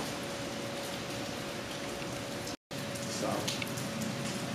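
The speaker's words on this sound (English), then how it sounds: "in the rain." Steady rain falling outdoors while a man waits at a bus stop, a constant dense hiss that drops out briefly and then resumes.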